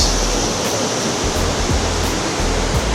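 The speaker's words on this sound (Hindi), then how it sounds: "इधर से ये पानी गिर रहा है" Middle Falls waterfall pouring steadily in a gorge, a loud, continuous broadband rush of falling water that fills the whole stretch without letup and carries no voices.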